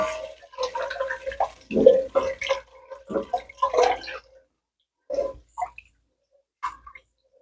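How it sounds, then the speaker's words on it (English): Water poured from a container into a soup pot of bouillon for broccoli soup, uneven splashing bursts that pause, then a few faint drips and trickles. "I just add 4 cups of water to that."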